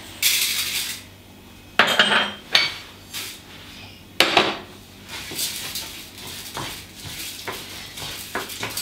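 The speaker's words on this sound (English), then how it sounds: "the moment of the truth, the adding of the rice" Rice pours into a seafood paella pan with tomato, garlic and onion over a fire: a few sharp clattering, rattling bursts of grains hitting metal, then softer scattered pattering and stirring, close up and without talking.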